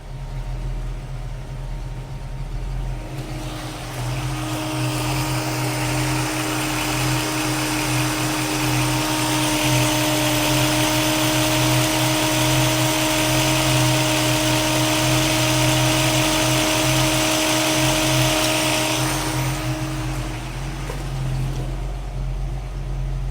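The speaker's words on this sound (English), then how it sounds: "Here what I'm doing is setting the idle speed" A 1965 Mustang engine with a Holley 650 carburetor idles at about 750 RPM as a steady, loud drone with a constant hum, held for most of the stretch before easing off near the end.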